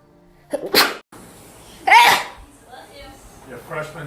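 Two sharp sneezes, the first a quick double burst and the second louder and fuller about a second later, close to the microphone in a quiet room with faint murmuring between them.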